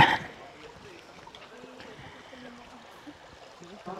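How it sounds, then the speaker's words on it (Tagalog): Soft, steady rush of a flowing river, fairly quiet and continuous, with faint voices in the background. "Ito yung ilog."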